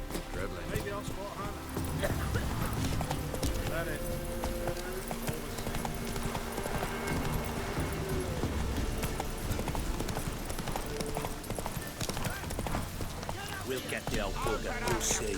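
A horse gallops in The Witcher 3, its hooves clip-clopping in a fast, steady rhythm close by for the whole stretch, mixed with game ambience.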